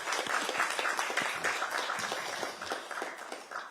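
Lawmakers at a party floor leaders' meeting applaud together in a steady, moderately loud round of clapping that carries on for several seconds before easing slightly.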